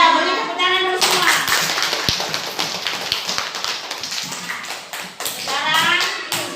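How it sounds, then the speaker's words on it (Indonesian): Children in a classroom clap their hands together after singing a song, a dense patter of many small hands that starts abruptly, runs steadily for several seconds and trails off, with a voice talking over the start and end. "beri tepuk tangan dulu semua"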